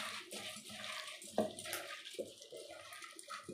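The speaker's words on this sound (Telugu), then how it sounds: "వాటర్ పోసుకోవాలి." Water is poured from a vessel onto about 100 grams of flattened rice (poha) in a bowl, giving a soft, uneven splashing trickle close by, with no talking.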